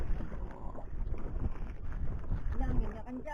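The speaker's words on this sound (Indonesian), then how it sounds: "Anginnya kencang, jangan teduh ikan kami dulu nah" Strong wind at sea on a fishing boat, steady blustery rumble with wind buffeting the microphone and water noise beneath, while people talk throughout.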